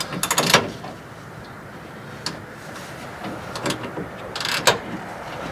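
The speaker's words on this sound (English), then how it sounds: "The little ratchet keeps flipping over." A small ratchet wrench clicks in short, uneven bursts while the rear sway bar is worked loose under a 1989 Chevrolet K5 Blazer, with quiet mechanical clatter between the bursts.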